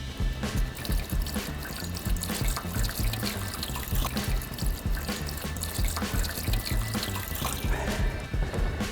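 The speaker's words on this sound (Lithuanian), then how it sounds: "Pilam ant stogo." Water poured from a can onto a roof runs down into a repaired rain gutter, a soft, continuous trickling and splashing with a faint steady hum beneath it, fairly quiet and unbroken.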